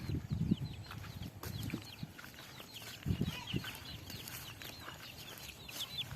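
Farm chickens cluck and chatter in soft, scattered bursts at a moderate distance, with occasional louder thumps and rustles nearby.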